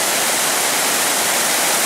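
Tad Yueng waterfall roars in a dense, steady wash of rushing water, loud and unbroken with no other sounds standing out.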